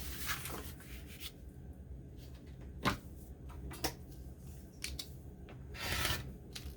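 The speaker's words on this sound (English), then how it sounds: "So let me just cut a piece off here." Scissors snip a piece off craft cardstock, a few quiet crisp cuts spaced out with soft paper rustling and handling between them, close up and fairly faint.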